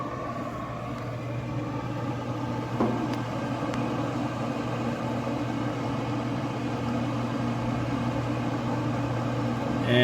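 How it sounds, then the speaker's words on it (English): A Z Grills 700D3 pellet smoker's fan runs as a steady, even hum and whir throughout at low level, with no voices. "And we can hear the fan going."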